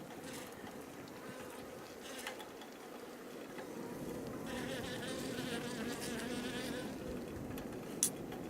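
Honeybees buzz steadily at a beehive in February, a faint continuous drone that holds throughout with a small click near the end.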